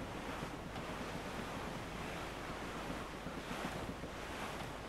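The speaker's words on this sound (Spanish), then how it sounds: "El viento es más fuerte." Strong wind and crashing ocean surf surround a sailing ship at full sail in Assassin's Creed 4 Black Flag, a dense, steady roaring wash that swells and ebbs gently, with no speech.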